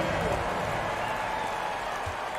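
Crowd applause in an NBA basketball video game for the Toronto Raptors, a steady wash of clapping and cheering from a large arena crowd, with a voice talking over it.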